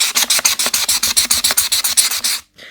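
A pumice stone scrubs back and forth across a journal page in quick, even strokes, roughly six per second. The rasping is close and loud, with no talking, and it stops abruptly near the end.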